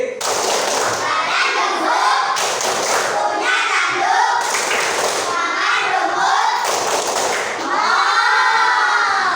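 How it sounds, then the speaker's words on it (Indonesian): Schoolchildren in a classroom do the tepuk sapi clapping chant, rhythmic group claps alternating with loud chanted voices, repeating in short phrases throughout. "Sekarang tepuk 1. Tepuk sapi."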